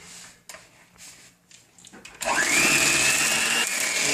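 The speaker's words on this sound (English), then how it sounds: "we got our lovely mixer." After some quiet clinks and handling, an electric mixer whirring through fruit pizza topping starts up loudly, its motor rising in pitch, then settles into a steady, close, continuous whine.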